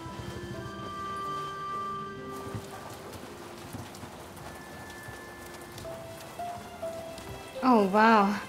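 Rain falls steadily on surfaces in a steady patter, with a few clopping knocks and a brief higher voice-like sound near the end.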